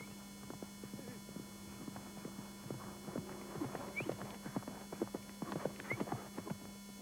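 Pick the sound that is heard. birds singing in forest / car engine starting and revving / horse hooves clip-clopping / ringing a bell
horse hooves clip-clopping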